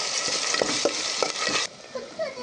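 Onion, ginger and garlic pastes frying in oil in a pot over browned onions, with a steady close sizzle and a few soft stirring scrapes that fade and quiet near the end.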